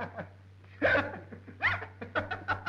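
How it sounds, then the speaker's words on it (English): Hiccups from a man in a 1937 film, several short sharp vocal catches spaced irregularly, mixed with chuckling over a low steady hum. "Did you ever have a case of the hiccups?"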